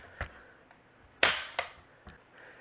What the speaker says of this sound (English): You press it down, and the hop-up chamber and bolt will slam forward.